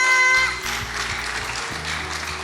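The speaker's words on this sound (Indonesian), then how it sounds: "Tepuk tangan untuk kita semua." Congregation at a special Lunar New Year church service gives brief scattered applause that thins out quickly, mixed with a sustained musical tone and low keyboard notes.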